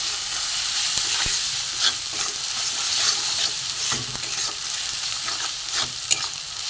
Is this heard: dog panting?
no